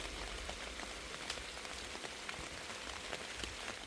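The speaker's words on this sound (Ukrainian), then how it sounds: "Дощик, я ж це так люблю, коли дощик і крапельки наче діаманти." Light rain falls on garden roses, a soft steady patter of drops with scattered sharper ticks of individual raindrops, fairly quiet and continuous with no voices.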